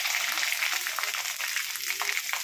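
Onion, mustard seeds and ginger frying in hot oil for a lemon, apple and raisin pickle, a steady bright crackling sizzle with small popping bursts, heard close with no talk.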